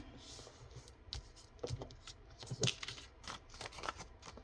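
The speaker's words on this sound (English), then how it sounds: "So I'm going to fold it up and make a pocket" Paper being folded into a pocket for a journal cover, a run of soft crinkles, creases and rustles close to the microphone in short irregular bursts, with faint low speech underneath.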